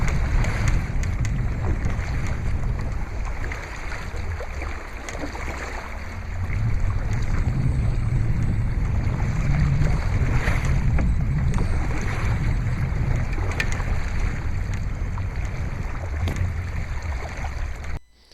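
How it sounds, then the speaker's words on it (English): Choppy whitecapped water splashes and rushes steadily around a Native Ultimate 12 fishing kayak as it is paddled through waves, with heavy wind buffeting the microphone and a continuous close wash of water. "I'm actually riding some of these waves"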